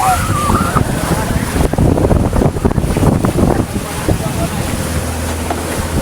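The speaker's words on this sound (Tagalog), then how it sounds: "Norte ang hangin ay." A strong north wind buffets a fishing boat out on the Pacific, roaring steadily across the microphone with sea and engine rumble beneath, while crew voices speak over it.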